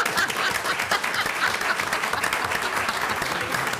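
Several people clap together in a steady, continuous patter that stays close and fairly loud from start to finish.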